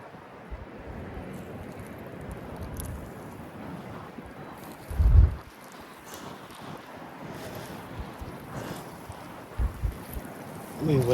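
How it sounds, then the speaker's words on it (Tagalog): Strong wind at sea buffets a small fishing boat, a steady rushing roar with microphone buffeting and a few low thumps, with occasional faint voices underneath. "Grabe ang lakas ng hangin."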